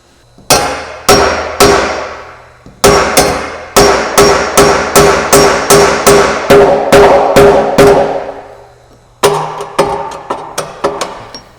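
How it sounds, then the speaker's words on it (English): Loud, ringing metal hammer blows, struck one after another in a quick run, pausing briefly before another burst of strikes. "You might even try just hammering through the bolt"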